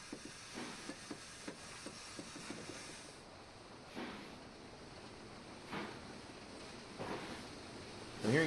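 Steam locomotive in a Western Lines of Scotland train simulator game, soft breathy hiss and faint chuffing puffs as the regulator is opened, quiet and intermittent, swelling slightly at the end.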